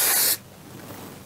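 An aerosol can of dry lubricant sprays a short, strong hiss for about a third of a second, then goes quiet, ending with a faint click.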